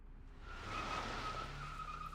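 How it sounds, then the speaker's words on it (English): Car engine roaring with a long tire skid in the video game Reverse 1999, a steady loud squeal held over a low rumbling motor for about two seconds, no voices. "the roar of an engine drowns out even the beast's howl"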